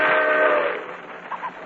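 A 1940s railroad train packed with passengers and baggage, giving a steady mid-pitched whistle-like tone that fades, with a couple of short higher blips near the end.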